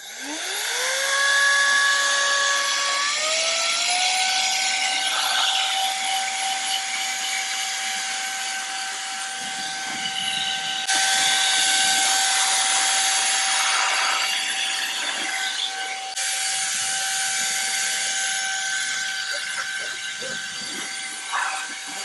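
A Kairiyard rechargeable compressed air duster spins up with a rising whine and then blows off dust in a loud, close, hissing rush, with short pitch shifts and a louder burst partway through.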